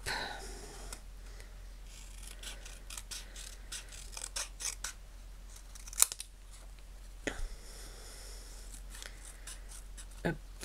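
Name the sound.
scissors cutting stamped paper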